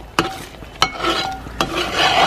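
Rice halwa being stirred in a pan: three distinct scraping strokes at a slow, even pace, with a soft sizzle between them, close and fairly loud.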